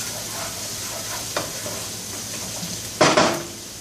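Garlic sautéing in olive oil in a pan for Kapampangan chicken curry, with a soft, steady sizzle close by. Faint scrapes of stirring are followed by a louder clatter of a utensil against the pan.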